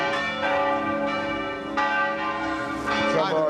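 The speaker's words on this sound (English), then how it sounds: "Even the bells there." Church bells ringing in an Italian hometown, a sustained resonant peal with repeated strikes layered over one another, loud and clear throughout.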